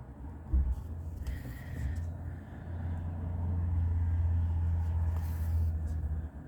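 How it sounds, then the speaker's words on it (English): Road traffic passes outside an open window, a low rumble of cars swelling and fading with one steadier vehicle drone building in the second half, moderately distant. "there's a little bit of traffic going past at the moment."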